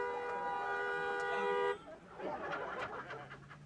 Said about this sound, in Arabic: يا خي انا اسمع لك زمور طوشني لساعة قدامك